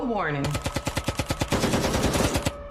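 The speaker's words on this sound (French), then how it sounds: "Tout à coup, on a entendu des coups de feu." Rapid burst of automatic gunfire, around twenty evenly spaced loud shots in quick succession, preceded by a brief falling tone.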